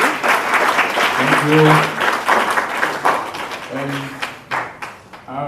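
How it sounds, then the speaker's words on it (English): Audience applause at a conference session fills the room with steady, dense clapping throughout, while someone briefly speaks over it. "so let's give a big round of applause."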